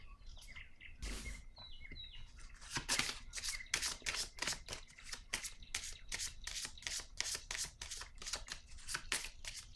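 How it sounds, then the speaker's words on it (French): Playing cards drawn and shuffled from a deck during a card reading, giving close, quiet bursts of rapid papery clicks and flicks, with faint bird chirps in the background. "Je vais piger une autre carte."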